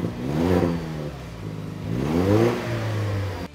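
A 4th-gen Toyota Tacoma TRD with a turbo engine and an AWE exhaust revs twice, close by. Each rise and fall of the engine note is a throaty, mid-pitched exhaust growl.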